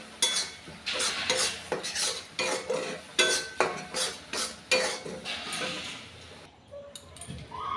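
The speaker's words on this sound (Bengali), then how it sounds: "আমি এখন ডালটা ঘুটে নিচ্ছি" A ladle mashes boiled masoor dal (red lentils) in a pot with a steady rhythm of about a dozen close scraping, clinking strokes, roughly twice a second, before the motion slows and fades near the end.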